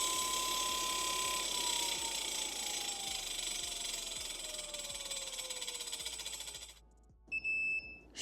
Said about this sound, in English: That sound you're hearing is just a little bit of brake drag,